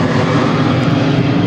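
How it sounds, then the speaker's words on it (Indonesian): A propeller airplane passing overhead during a banana harvest among tall trees, a loud continuous engine drone filling the whole moment with no voices. "Mohon maaf suaranya agak sedikit tidak jelas karena ada pesawat"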